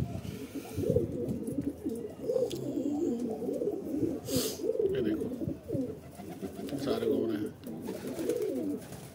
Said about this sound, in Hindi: बाकी कबूतर हमारे ये रहे सारे